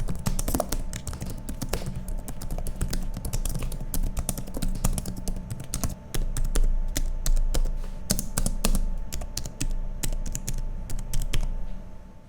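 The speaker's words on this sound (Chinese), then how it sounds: "这边也提供一段键盘收音给大家参考" Rapid, close typing on the keyboard of a 2026 ROG Zephyrus Duo laptop with 1.7 mm key travel, a dense run of crisp key clicks and taps that continues steadily with no voices.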